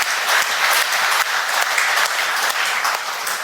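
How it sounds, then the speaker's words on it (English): Audience applause from a live crowd at a talk, a dense sustained wash of many hands clapping, loud and continuous throughout with no voices over it. "Yes, that does deserve a round of applause."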